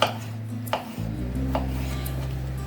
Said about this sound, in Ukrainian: щоб крупненько огірок був, ріжу